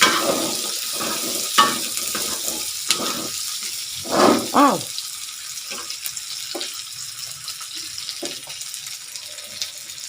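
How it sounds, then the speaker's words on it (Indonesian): Shallots, garlic and chili frying in a pan as they are stirred, a soft sizzle under scraping and clinking strokes of the spatula, with a few louder clatters. "Seperti ini kita aduk terus sampai bawang merah sama bawang putih cabainya matang."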